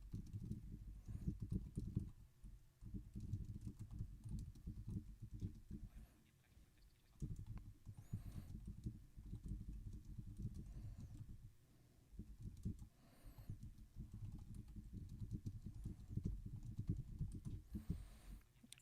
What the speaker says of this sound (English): I get to spell check my typing